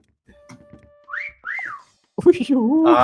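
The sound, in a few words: whistling sound in the video game Meccha Chameleon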